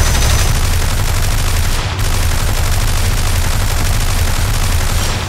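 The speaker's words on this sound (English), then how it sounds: "Machine gun and cannons." Aircraft machine guns and cannons of a LaGG-3 fighter in War Thunder fire in a loud, continuous, rapid burst, with a brief break near the two-second mark before the sustained fire resumes.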